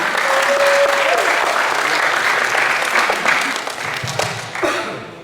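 A crowd at a live-streamed community talk event in Cirebon applauds in a loud, dense wash of clapping that holds steady and then thins out toward the end, with a brief voice heard early on.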